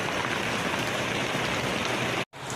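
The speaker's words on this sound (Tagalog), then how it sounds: "Lakas ng ulan, no?" Heavy rain pouring steadily in a dense, loud hiss that fills the clip, with a brief cut near the end and no talking.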